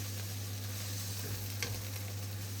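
Lentil soup ingredients frying and stewing in a pan give a steady, close sizzle with a constant low hum beneath, a soft clink of a utensil near the middle.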